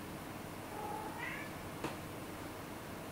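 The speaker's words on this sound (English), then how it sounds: "Can you hear my cat meowing?" A house cat meows once at a moderate distance, a short rising and falling call standing out over steady low background hum, with no speech during it.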